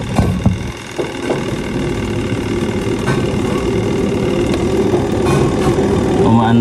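A steady spin dryer motor hums and whirs close by, building slightly over time, with a few knocks at the start and a voice speaking over it.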